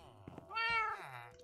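A Minecraft cat gives a short, clear meow, rising and then falling, close and fairly loud, with a brief voice just before it.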